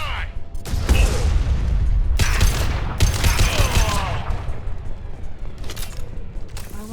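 Heavy gunfire in the game Mass Effect 2, loud, repeated bursts of shots and booming impacts in a chaotic firefight, with brief combat voices mixed into the din.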